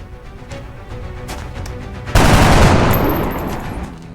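A soldier's gun fires in XCOM Enemy Within, a sudden loud burst of gunfire cutting through a quieter electronic game backdrop and ringing out for about two seconds before slowly fading.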